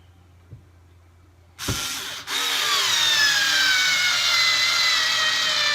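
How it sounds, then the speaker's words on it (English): After a quiet room tone and a click, a TopShak 4V cordless screwdriver whirs up and keeps driving a 2-inch deck screw steadily, its motor whine rising as the screw bites into wood. "if you're using a handheld screwdriver like this, a cordless electric screwdriver"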